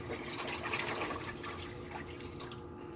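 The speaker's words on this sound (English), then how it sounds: "I'm going to add 7 cups of cold water to my lentils pot." Cold water poured into a pot of lentils, a soft continuous splashing and trickling with scattered drips, fairly quiet and close, with no talk.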